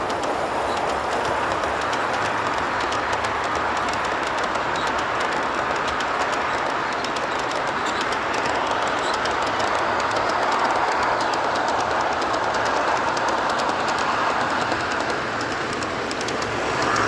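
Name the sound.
G scale model train running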